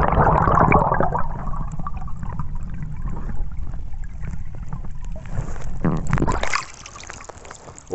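A camera is dunked into river water near Sete Barras, São Paulo, producing a burst of splashing and muffled bubbling churn, loud and close, with a second splash as it comes back out near the end.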